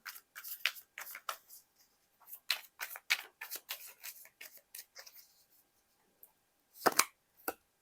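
A tarot card drawn from the deck during a reading, with a string of quick soft paper slides and flicks in bursts, a pause, then a few louder snaps, close and quiet with no talk.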